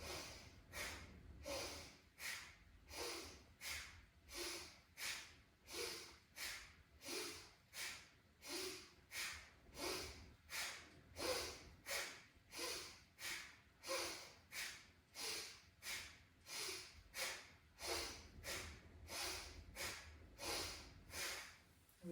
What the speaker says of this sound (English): Inhale and exhale through the nose.